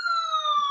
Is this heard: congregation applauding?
no